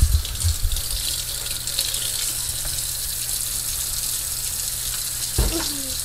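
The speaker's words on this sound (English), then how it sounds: "Can we wash our hands, honey?" Hands are washed under a running kitchen tap during cookie baking, with a steady close hiss of flowing water throughout and a brief splash or clunk near the end.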